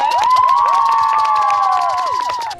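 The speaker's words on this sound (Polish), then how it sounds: "brawa dla wiosny!" Children and adults at an outdoor gathering in Cieszyn welcoming spring cheer loudly, with high shouts and whoops over continuous clapping, sustained for a couple of seconds before easing slightly.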